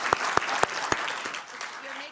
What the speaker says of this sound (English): let's give them a big round of applause for their work